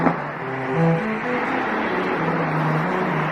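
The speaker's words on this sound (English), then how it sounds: "There's our first public security vehicle, a Broward County Sheriff's vehicle." A Broward County Sheriff's car passes on the road, its engine hum and tire noise steady and moderately close, with a brief rise in level early on.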